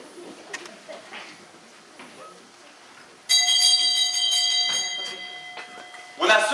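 A door bell rings in a sustained, bright electric tone lasting about three seconds, loud and close, with quieter talk and room noise before it and another burst at the end.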